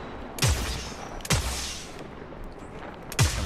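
Three heavy gunshots fired in Destiny 2, spaced about a second or two apart, each a loud sharp crack with a deep booming tail, with no voices.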